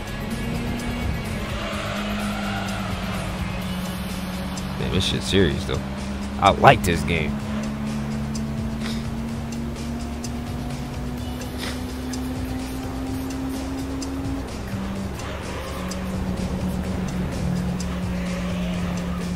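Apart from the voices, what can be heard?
race car engine and tire squeal in video game Gran Turismo 3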